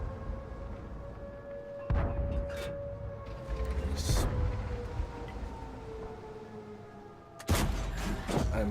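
Heavy tank cannon shots from a Centurion Mk 7/1 in the World of Tanks game: three loud, booming blasts spaced a couple of seconds apart over a steady mechanical hum.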